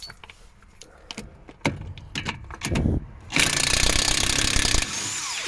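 Impact gun undoing a stubborn bolt on a BMW 7 Series, a loud sustained rattling burst of about a second and a half after some clanks and handling noises, then a quieter tail.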